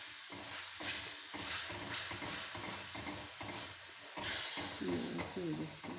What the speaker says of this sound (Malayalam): ഈ അരപ്പ് മൂത്ത് വരുന്നവരെ നമുക്ക് ഇത് ഇളക്കിക്കൊണ്ടിരിക്കണം